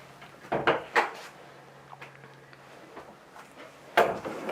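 A storage drawer in the bathroom of a Luxe Regent luxury fifth-wheel RV opening or closing, heard as a few soft, close wooden knocks and clunks spread over a few seconds.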